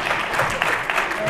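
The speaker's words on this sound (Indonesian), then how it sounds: "Tepuk tangan." Brief burst of crowd applause at a university talk show, dense clapping with a voice speaking over it near the start.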